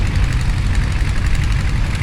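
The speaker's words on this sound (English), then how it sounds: "We've got the British Anglian mower, which is a little single cylinder petrol engine mower." A little British Anglian single cylinder petrol engine mower runs steadily at an outdoor steam and craft show tractor parade, a continuous low engine drone close by, no voices.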